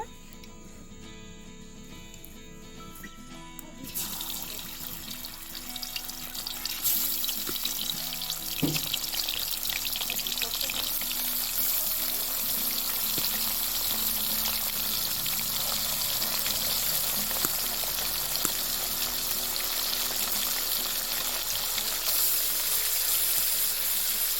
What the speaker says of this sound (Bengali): হলে মাছগুলো ভেজে নেব